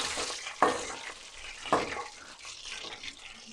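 Beef koftas frying in oil in a home kitchen, a soft steady sizzle with two sharp utensil clinks near the start, no one talking.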